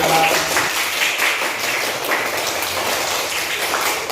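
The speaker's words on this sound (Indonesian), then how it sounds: "tepuk tangan untuk penampilan dari kelompok 3" Dense, steady applause from a primary school classroom, with pupils clapping for a group after its presentation. It fills the whole stretch at a loud, even level with no clear pauses, and faint voices may sit underneath.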